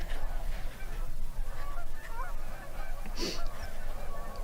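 Canada geese honk repeatedly in a noisy outdoor chorus, loud and continuous with overlapping calls.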